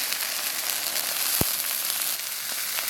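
Aromatics, sweet bean paste, soybean paste and chili paste fry in oil in a wok, a steady close sizzle with one brief sharp knock partway through.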